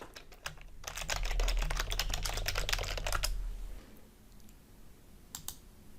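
Rapid keystrokes on a computer keyboard while a protocol name is entered in data-analysis software, a dense run of close clicks for about three seconds, then stopping, with a couple of isolated taps near the end.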